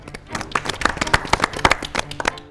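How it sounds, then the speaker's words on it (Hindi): An audience claps at a Hindi history quiz show about 1857, with sharp, uneven hand claps bursting close by for a couple of seconds; there is no talking. "आपके लिए भी तालियां।"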